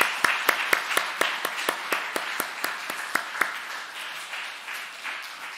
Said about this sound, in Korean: 여러분 박수 한번 할까요?